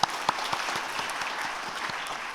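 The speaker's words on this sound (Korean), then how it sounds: "우리 격려 박수 하겠습니다" A church congregation at a Sunday afternoon worship service applauds to encourage members of a special education ministry. The steady crowd clapping is fairly quiet, with a few sharper individual claps near the start.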